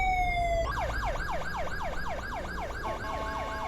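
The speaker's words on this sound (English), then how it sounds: "Yes, ambulance, we hear you." Ambulance siren wailing close by, a rapid repeating sweep of rising and falling tones after a brief steady tone, loud and continuous, with no one speaking.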